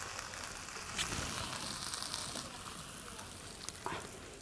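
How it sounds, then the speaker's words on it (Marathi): Dhapate flatbread cooking in oil on a pan, with a steady close sizzle and frying crackle running throughout, a few louder pops along the way. "हे अशाच पद्धतीचे तेल टाकून सर्व दपाटे बनवून घेणार आहे"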